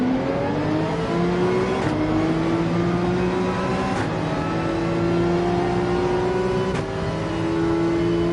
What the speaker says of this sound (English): Let's put the pedal to the metal and get down to racing.